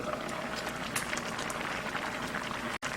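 A pot of yellow croaker and fernbrake stew with chili flakes bubbling at a steady rolling boil, a dense continuous crackle and pop at moderate level with a brief dropout near the end.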